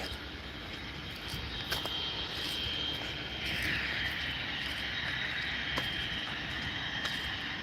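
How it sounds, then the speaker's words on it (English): Jet engine noise at a regional airport, a steady distant roar with a high whine that swells slightly midway, continuous for several seconds without talk. "This goddamn jet noise in the back."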